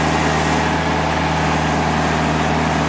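A Timberking sawmill's diesel engine runs steadily and loudly throughout, a continuous low rumbling drone with no talk over it.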